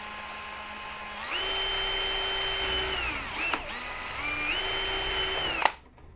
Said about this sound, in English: one to drill here.